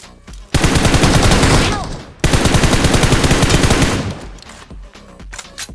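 Rapid automatic gunfire in BGMI PUBG Mobile rattles in two long, loud, close bursts separated by a brief pause, with scattered shots trailing off afterward.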